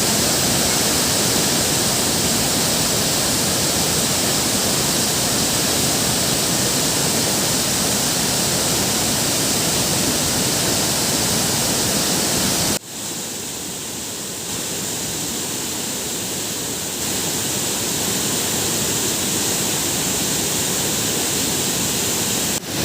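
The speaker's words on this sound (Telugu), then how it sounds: "ముఖ్యంగా మన్యంలో జలపాతాల అందాలు కట్టిపడేస్తుంటాయి." A waterfall in the forested Visakhapatnam agency hills roars as a loud, dense, unbroken rush of falling water, close and constant, with a sudden cut partway through to a slightly quieter continuation of the same roar.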